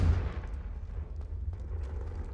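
Confringo fire spell blasting in the Hogwarts Legacy video game, a deep rumbling boom that rolls on with low, muffled crackling bursts throughout.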